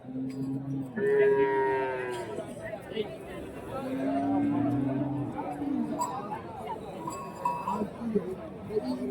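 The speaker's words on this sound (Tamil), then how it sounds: "சின்ன சின்ன கண்ணு ஜெர்சி குட்டி கூட வந்து வச்சுருக்காங்க" Jersey and HF cows with young calves at a Friday livestock market in Kundarapalli, lowing and bleating amid a busy crowd, with steady chatter and voices throughout.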